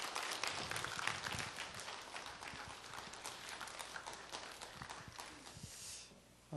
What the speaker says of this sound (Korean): 우리 나오실 때 박수로 환영하겠습니다